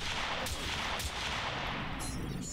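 Turret gunfire in Empyrion Galactic Survival at a comm center: a few sharp, fairly faint bursts spaced about half a second apart, then a brief harsher crackle, all over a steady low background hum.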